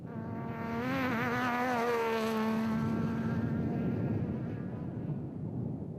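An RFS BMW off-road race car at the 2013 Ford Dealer 400 roars past, its engine whine rising and then falling as it goes by, before settling into a loud, steady rumble. No voices.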